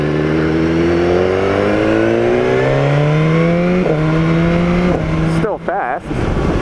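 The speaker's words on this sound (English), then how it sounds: "I'm in 6th gear, accelerating in rain mode" A 2015 BMW S1000R motorcycle accelerates in rain mode up through sixth gear, its engine note rising steadily in pitch with brief dips at shifts, loud and close with wind rush and a short drop near the end.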